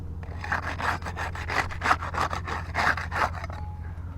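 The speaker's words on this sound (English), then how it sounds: "We'll get started with the putty knife. We'll use that to unseal the top shingle," Putty knife prying and scraping under a sealed roof shingle, a rapid series of short rasping strokes, close and fairly loud, roughly a dozen scrapes in a steady back-and-forth rhythm that trails off at the end.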